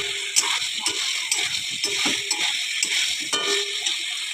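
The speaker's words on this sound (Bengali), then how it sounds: "এখন আমি ভেজে রাখা আলু আর পটলটা দিয়ে দেবো। এখন এটাকে ভালো করে কষিয়ে নেব।" A curry of fried potato and pointed gourd with cumin, green chilli and ginger is sautéed in oil, making a light hissing sizzle with scattered scraping clicks of stirring. There is no speech.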